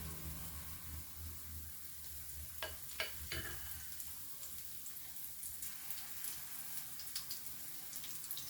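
Potato fritters sizzle and crackle steadily in hot oil in a pan, with a few sharp pops and clinks of a utensil near the start.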